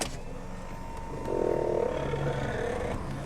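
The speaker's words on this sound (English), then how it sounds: "And now, let's go ahead and roll down the driver's window." The driver's window of a 1985 Toyota Celica GT-S Liftback is rolled down with a faint, steady mechanical whir that starts partway through and continues to the end.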